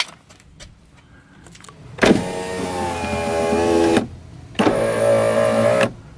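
A 2003 Infiniti G35 power window motor, freshly removed, whirs in two loud, close bursts of about two and one and a half seconds, separated by a short pause and preceded by faint clicks.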